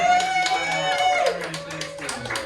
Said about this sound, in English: Can I get one big last round of applause?